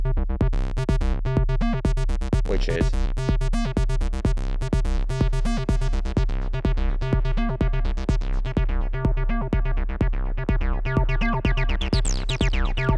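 Buzzy square-wave 303-style synthesizer bassline with delay pulses in a fast, steady sequence of short squelchy notes, loud and continuous over a driving beat.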